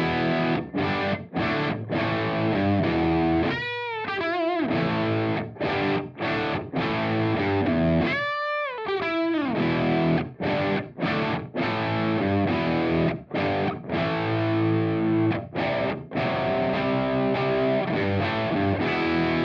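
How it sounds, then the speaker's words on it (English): A mildly overdriven electric guitar through a V1 Jack amplifier plays chunky rhythm chords and a few bending lead notes, with a warm, crunchy, British-style tone and short pauses between phrases. "starting with this low gain, British inspired purring crunch sound"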